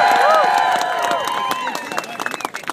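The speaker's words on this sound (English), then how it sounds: "So let's give them a round of applause." A crowd at an outdoor march gives a burst of applause and cheering, with scattered clapping that thins out toward the end.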